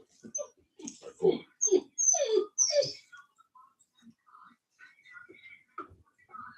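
Cane Corso puppies let out a series of faint, close high-pitched whimpers and squeaks, some clustered together and others scattered and fading.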